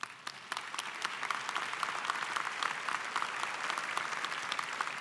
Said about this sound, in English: Graduates, please join me in giving them a well-rounded applause.